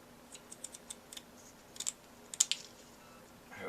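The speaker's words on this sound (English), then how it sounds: "you want to take some drywall fiber tape, that's what this is, and just cut sections" Drywall fiber tape is snipped into sections with scissors, a string of small sharp clicks and cuts, quiet and close, coming in short irregular bursts with brief pauses between them.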